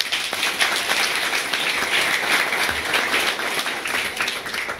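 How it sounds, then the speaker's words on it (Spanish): Audience applause after a group ballet performance by a dance academy at a university stage event, a dense steady wash of many hands clapping throughout, fairly loud and close. "Venga, un aplauso nuevamente para ella."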